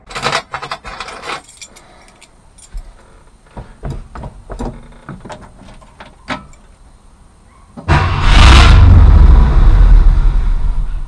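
A 1966 Ford Thunderbird barn-find engine, freshly reassembled after engine and cooling work, is cranked after a run of clinks and rattles, then catches with a sudden loud, sustained roar up close.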